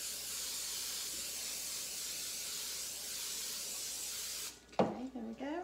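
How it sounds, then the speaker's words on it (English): Cooking spray hissing into a bundt pan in a steady, close spray lasting several seconds, then stopping as handling clatter follows. "So the key is to spray your pan really well."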